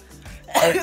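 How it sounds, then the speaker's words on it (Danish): A single sneeze breaks out abruptly after a stretch of quiet murmuring, a sharp, loud burst close to the mic that fades within a fraction of a second. "Undskyld, jeg nyser altid i videoer."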